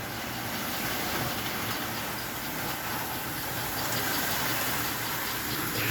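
A steady, smooth rolling rumble comes from an American Flyer model train pulling six cars at about 4 mph, with a constant even hiss and faint rhythmic clicking and no voices over it.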